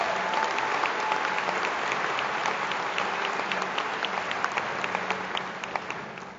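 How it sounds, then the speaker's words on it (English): Audience at a health professions university commencement ceremony clapping, a loud, dense, sustained wash of applause from a large crowd that holds steady and then starts to thin out at the end. "Let's give Aaron a huge hand of applause for the hard work he's doing."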